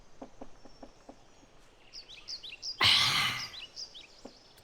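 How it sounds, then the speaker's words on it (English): Birds chirp outdoors in short, high, scattered calls, with a brief burst of broadband noise partway through and faint low taps in the background, no talking. "at least you could hear the birds chirping and chilling"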